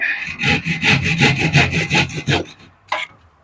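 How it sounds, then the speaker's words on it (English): A hand saw cuts back and forth through timber while church windows are made, giving about ten loud, close, rhythmic rasping strokes before a pause and one short final scrape. "just have to put the saw through again"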